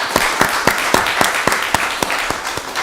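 Applause at a Rockdale County Board of Commissioners meeting, a steady wash of many hands with sharper individual claps cutting through at a regular beat, fairly close and sustained throughout.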